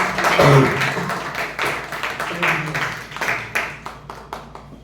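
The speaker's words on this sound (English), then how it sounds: "Give a big round of applause" Audience at a Toastmasters meeting gives a big round of applause, a dense, steady patter of many hands clapping close by for several seconds before thinning toward the end.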